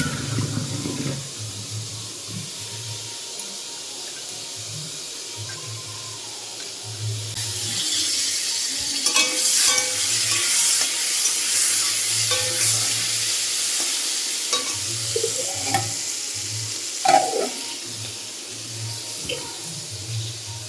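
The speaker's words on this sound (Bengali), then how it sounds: "এদিকে পটল ভাজছি পটল ভাজা হচ্ছে" Pointed gourd (potol) slices sizzle and fry in a pan, with steady broadband frying hiss throughout and repeated scraping stirs of a spatula, louder in the middle stretch, with no talking.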